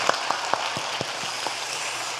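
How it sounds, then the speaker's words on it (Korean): A church congregation breaks into applause during a worship service, a brief, even wash of clapping with a few sharper individual claps near the start. "하나님께 영광의 박수를 한번"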